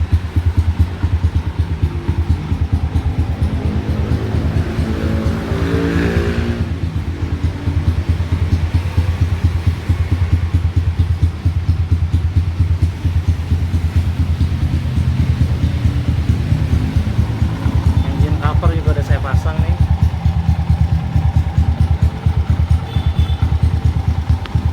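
A Kawasaki D-Tracker 150 motorcycle with a stock engine runs close and loud, a steady rapid single-cylinder thrum held throughout with light mechanical clatter and no talk.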